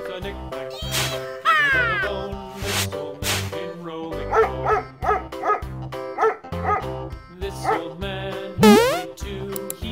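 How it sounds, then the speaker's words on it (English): A toy or cartoon-style dog barks among other animal sound effects from a children's farm and zoo animal toy, with short bright yelps and meow-like calls rising and falling in quick bursts, fairly loud and close. "Dog."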